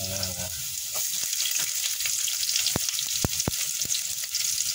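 Saluyot jute leaves frying in a pan, a steady loud sizzle throughout with a few sharp crackles and pops near the end, no talk.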